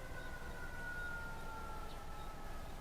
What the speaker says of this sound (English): the ambulance is running past